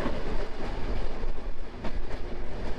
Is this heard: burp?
no